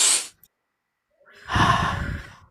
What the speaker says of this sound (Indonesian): Coba ibu tarik napas.